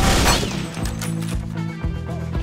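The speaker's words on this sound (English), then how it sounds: "the machine gun wastes me" Machine gun fire in the WWII shooter Combat 1944, a loud opening burst of rapid shots followed by scattered sharper cracks and booms against a busy battle background, with no voices.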